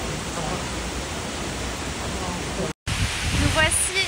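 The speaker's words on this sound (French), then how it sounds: "Belle chute d'eau, Nouvelle-Zélande, premier pas." Bridal Veil Falls in New Zealand roars as a dense, steady wash of falling water, loud and close, briefly cut off before resuming with faint bird calls over the torrent.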